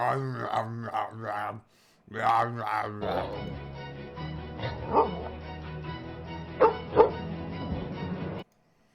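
A dog makes a run of vocal yips, whines and bark-like yelps in short bursts, followed by a longer stretch of softer whimpering and occasional sharper yelps over a steady background hum.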